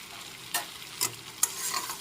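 Carrot pieces, salted and frying in a pan for cheese pasta, are stirred with three distinct scraping strokes over a soft, steady sizzle. No one speaks.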